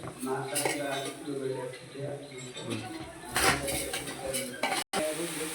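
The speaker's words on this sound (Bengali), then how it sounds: "চাউলটা ভালো করে ভাজতে হইব।" Rice being fried and stirred in a pot for biryani, a spoon scraping and clinking against the metal over a soft sizzle, steady and close, with a voice talking over the stirring.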